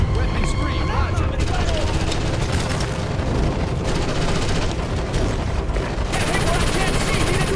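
Dense, continuous gunfire and explosions from squad combat in the Ghost Recon Advanced Warfighter video game, with rapid shots and booms layered throughout, loud and close, with radio voices talking over the battle.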